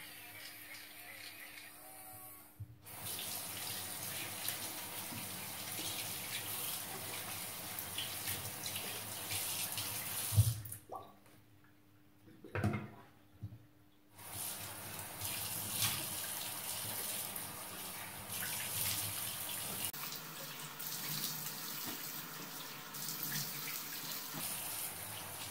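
Tap water runs steadily into a bathroom sink before teeth brushing, a continuous hiss through most of the clip that briefly cuts out midway, with faint background noise and possible muffled talk.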